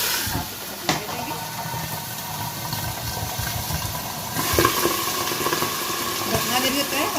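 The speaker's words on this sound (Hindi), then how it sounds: "अब हम इसके अंदर पानी डाल के इसको हम तड़का लगाएंगे" Water is poured into a hot tadka for mutton pulao, and it hisses and sizzles steadily throughout. A sharper burst comes partway through, with faint background noise mixed in.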